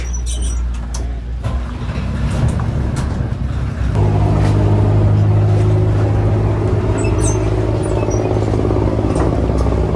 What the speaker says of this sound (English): The boat has departed safely.